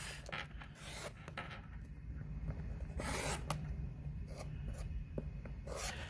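Rotary cutter slicing quilting cotton along an acrylic ruler on a cutting mat, a soft scraping rasp with several short strokes and light handling noises, close and quiet with no talking.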